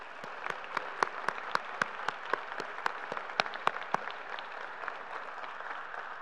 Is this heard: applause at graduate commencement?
yes